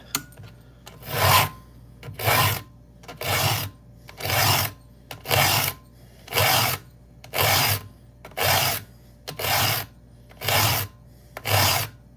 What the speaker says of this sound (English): I'm just gonna sharpen my blade.